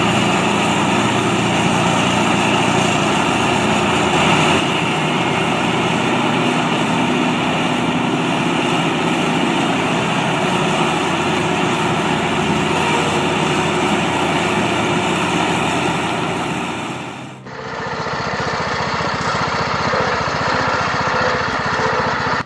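A Vermeer wood shredder grinds wood with a loud, steady engine roar and a dense mechanical drone. The sound holds constant, then shifts abruptly to a thinner, higher whine near the end.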